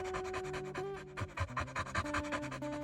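A puppy inside a caravan pants rapidly and rhythmically at close range, with a steady tonal background hum beneath the quick breaths.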